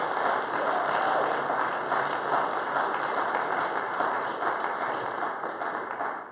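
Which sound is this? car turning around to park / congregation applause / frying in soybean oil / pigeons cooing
congregation applause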